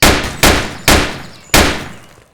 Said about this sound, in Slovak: Následne strelba, tak zo zbrane.